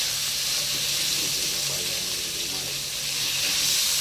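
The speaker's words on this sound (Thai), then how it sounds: "หมูลงไปผัดก่อนนะครับ" Marinated pork stir-fried in a hot pan with celery, a loud continuous hiss and sizzle held steady throughout, with faint clatter underneath.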